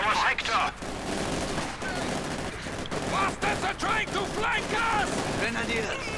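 Rapid bursts of gunfire and machine-gun fire from a Company of Heroes 2 1v1 match, with shock troopers facing grenadiers, crackle densely throughout alongside battle effects while a commentator talks over it.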